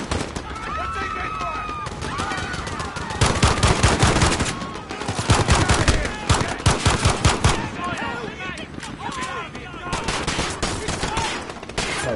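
Dense video-game firefight: rapid automatic gunfire and bursts of shots crackle in overlapping volleys, loud and close, with brief lulls and voices mixed in.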